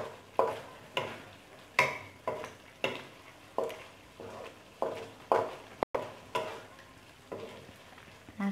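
Sambal goreng with chicken liver, gizzard and petai beans is stirred in a pan: a low simmering sizzle under a regular series of distinct spoon scrapes and knocks, roughly one each second.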